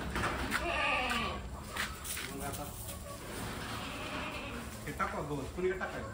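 Goats bleat several times at close range, wavering cries scattered among people talking nearby, in a village setting as fodder is carried for the herd.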